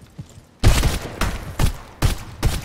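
Gunfire in the video game The Last Farmer: a quiet half-second, then a string of loud, sharp bursts at irregular intervals, close and punchy, with nothing else over them.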